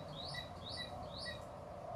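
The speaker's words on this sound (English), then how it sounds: "one of the presenters, Radhika, she was recording a sound of a bird." A bird calls outdoors near a creek seep, repeating three rising chirps at an even pace over a steady low background hum.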